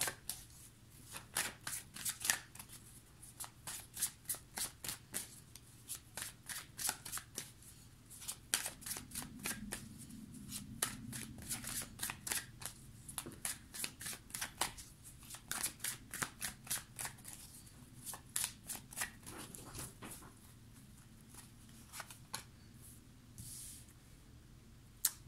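A tarot deck is shuffled close up in a quiet room, with rapid crisp riffling clicks and soft slaps of cards repeating in uneven bursts throughout.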